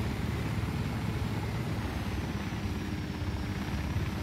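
A helicopter in the video game Ghost Recon Wildlands drones steadily with a loud, continuous rotor and engine rumble close by, alone without talk.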